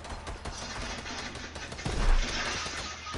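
Video game gunfire from a Fortnite match, a dense continuous rattle of rapid shots filling the whole stretch, swelling louder near the middle and staying steady without any talk over it.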